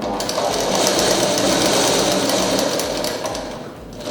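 A sewing machine stitches pleats in fabric, its rapid needle chatter loud and close and running steadily without talk.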